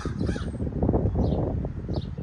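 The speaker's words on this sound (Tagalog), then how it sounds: "Ang daming uwak." Several crows caw a few times in the distance over a loud, rumbling wash of wind or traffic noise.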